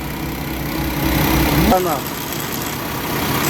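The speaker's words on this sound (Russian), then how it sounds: "Мотор шепчет." A Paccar MX13 truck engine idles with a steady low mechanical rumble that dips slightly partway through, while a voice briefly speaks over it.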